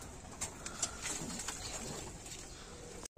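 A racing pigeon coos softly in a loft, several low throaty calls against a steady background hiss that cuts off abruptly at the end.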